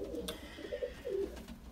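Pigeons in a loft coo softly, several low throaty calls in a loose rhythm, close but quiet, over faint background noise.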